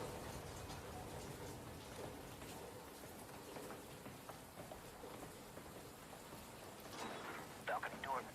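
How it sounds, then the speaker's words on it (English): Steady rainfall from a tactical shooter video game, a continuous hiss of drops on surfaces with occasional sharper ticks, heard beneath quiet voice chat and game sounds. "The rain effects are pretty cool."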